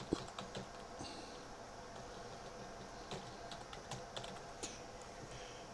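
A password is typed on a computer keyboard during a clean install of Ubuntu Linux 15.04, with quiet, irregular keystroke clicks in short bursts and a soft room hiss underneath.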